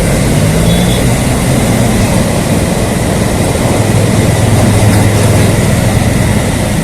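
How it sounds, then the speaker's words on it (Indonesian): Commuter train passing underneath an overpass in Jakarta, a loud continuous rumbling roar with rail clatter that holds steady throughout. "Kita tunggu dulu sampai keretanya habis melewatin bawah kita."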